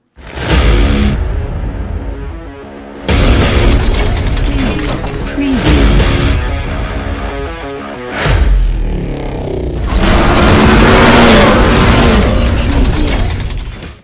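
Pinewood derby cars from a Cub Scout pack run down the wooden race track, giving a loud continuous rolling rumble with sharp whooshes and clattering impacts near the finish. The crowd noise stays high throughout.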